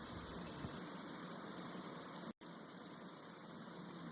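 Steady cartoon rain hisses evenly and fairly softly, broken by one abrupt instant of silence midway, with no voices.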